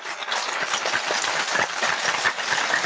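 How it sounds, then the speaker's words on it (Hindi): Applause from an audience after a lecture on evidence-based Ayurvedic medicine: steady, dense clapping from many hands, fairly loud and even throughout, with no talk over it. "आपकी तालियां बजाएंगी कितनी जोर तक सुनाई देगी"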